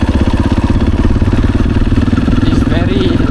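Motorcycle engine running loud and close while riding, a steady throbbing rumble with a rapid pulsing beat throughout, and someone talking over it.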